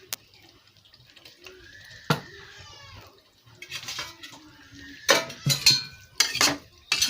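Spiced, salted vegetables for veg pulao get mixed in a pan or bowl, with sharp spoon clinks and scraping bursts, sparse at first and then clustered and louder toward the end.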